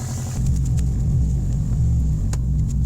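A Subaru WRX engine idles to warm up on a snowy day, a steady low rumble that grows slightly louder after a moment and holds even, close by, with no talk.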